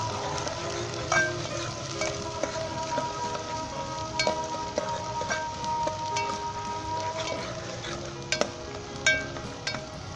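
Chicken frying in a pan for a quick gravy hisses continuously, with frequent metallic spatula scrapes and clinks standing out sharply over the sizzle. No one speaks.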